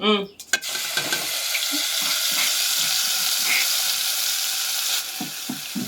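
Crushed chillies hit a hot pan and set off a sudden loud sizzle that holds steady. Occasional stirring scrapes and faint kitchen clatter come through, and a voice is heard briefly near the end.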